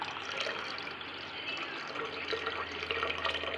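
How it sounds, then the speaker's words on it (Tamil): Soaked tamarind stirred into water by hand for a thin sambar gives a steady, close, soft sloshing and trickling of liquid, with no talking. "இப்போ இந்த புளி அது புளி தண்ணி இதில் கலக்கி கலக்கிறேன்"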